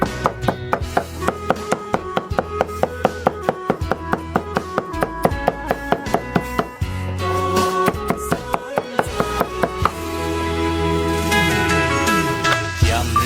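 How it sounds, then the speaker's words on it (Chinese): Fresh pork being minced with a cleaver on a cutting board, a fast steady run of loud, sharp chops that briefly pauses and then resumes at a quicker, denser pace. "再把它剁成末。"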